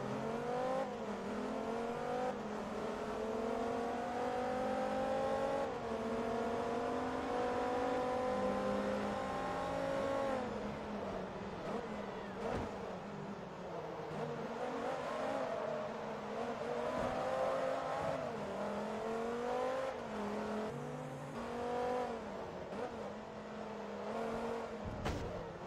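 A Hennessy Viper race car in Forza Motorsport 2 drones steadily through long stretches of acceleration, its engine pitch climbing and dropping with gear shifts and corners, with occasional brief tire noise and no voices.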